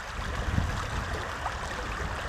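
A strong river current rushes steadily at a riverside camping spot, a dense continuous roar of flowing water with no voices heard.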